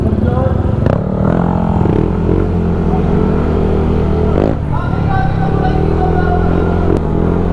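Motorcycle engines idle and rev at the starting grid of a 500 km endurance ride, a loud rumbling chorus with clattering and sharp throttle blips, under people talking nearby.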